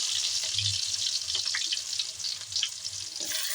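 Onion frying in oil in a pan for okra stew gives a steady soft sizzle with small crackles, faint and continuous, with no talk.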